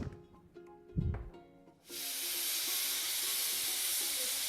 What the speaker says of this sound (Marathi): मीडियम फ्लेमवरती आपल्याला तीन शिट्ट्या काढून घ्यायच्यात